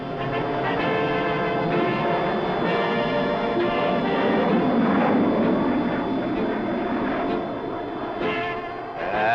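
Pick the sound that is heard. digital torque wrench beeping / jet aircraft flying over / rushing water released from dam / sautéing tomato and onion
jet aircraft flying over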